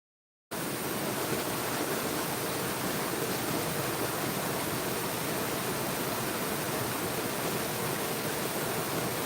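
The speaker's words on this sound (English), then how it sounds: "requesting to hear the sounds of the waterfall instead of me droning on" A night waterfall pours in a steady, dense broadband rush, loud and unbroken for the whole stretch after a brief silent start, with no voices.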